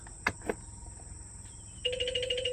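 An SMS notification tone plays from a mobile phone that receives texts from a GSM-based motor starter. It arrives as a steady, bright repeating chirp pattern near the end, after two short clicks and a faint background hum.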